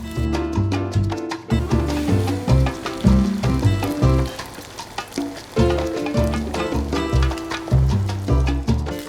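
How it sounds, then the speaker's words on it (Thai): Egg and vegetables sizzle in a hot pan for shrimp fried rice, with steady frying crackle broken by rhythmic scraping and tossing strokes of a spatula, close and fairly loud with no talking. "เมื่อเราผัดนะคะ จนไข่ของเราสุกแล้วก็แห้งแล้วนะคะ"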